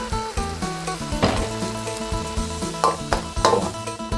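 Minced pork frying with garlic and chili in a pan, sizzling steadily with occasional stirring scrapes, beneath tonal background music.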